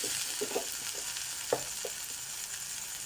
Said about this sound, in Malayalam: ഉള്ളിയും തക്കാളിയും നന്നായി വഴന്ന് വന്നിട്ടുണ്ട്